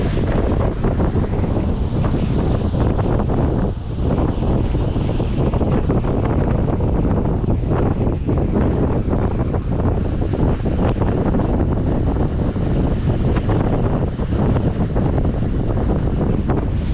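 Strong wind roars continuously across the microphone aboard a sailing boat between Horta and Ponta Delgada in the Azores, with the rush of water and waves beneath, loud and unbroken throughout.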